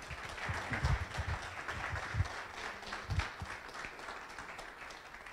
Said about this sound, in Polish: I witamy wielkimi brawami,